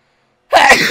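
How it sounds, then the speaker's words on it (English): A single sharp sneeze bursts out loud and close after silence, from a player commentating on NASCAR The Game 2011. "That sneeze came a little bit. Came at the wrong time there."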